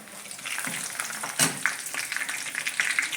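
Onions and two or three dried red chillies fry in a pan for an avoli (pomfret) curry, giving a steady crackling sizzle with a sharp spatter around the middle and light stirring scrapes, close and without voices.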